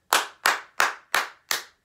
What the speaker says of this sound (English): Then we do a second clapping and we make it a little sharper sounding.